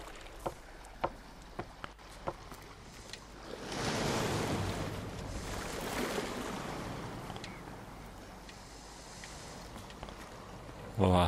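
Water waves lapping and washing from the horror video game Call of Cthulhu, swelling into a steady surge mid-clip over scattered clicks, with someone talking over it.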